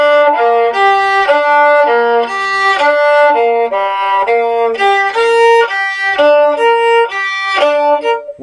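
A solo violin plays a connected legato melody from an electronic-style violin piece, notes flowing smoothly into one another in a loud, close, steady line without any speech.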